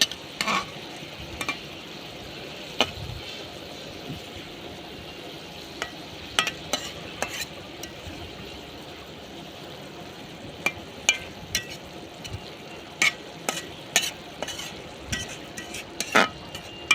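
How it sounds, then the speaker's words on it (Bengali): Fish and eggs fry together in a pan, giving a steady, soft sizzle with scattered clicks and scrapes of a utensil stirring, close by and without speech. "এখন মাছ আর ডিম একসাথে বোনা করে নেব।"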